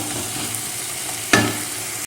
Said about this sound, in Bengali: এবারে আমি ভালো করে এগুলোকে কষিয়ে নেব